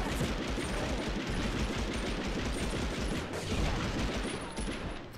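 Dense, rapid gunfire from the video game Medal of Honor crackles continuously, rattling bursts layered over one another without pause.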